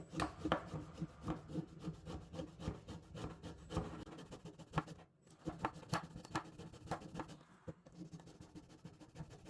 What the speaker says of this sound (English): get one of the orange that you cut, go ahead and scrape off the skin of it.